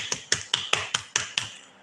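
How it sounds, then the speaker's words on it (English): Seven sharp, evenly spaced claps ring out in a quick, steady rhythm, fairly close and clean, with no voices over them. "And people are clapping"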